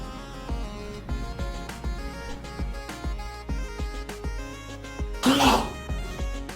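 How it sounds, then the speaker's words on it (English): A single abrupt sneeze bursts out near the end, loud and close, over background music with steady beats. "Got a sneeze coming."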